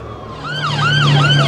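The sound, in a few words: ambulance siren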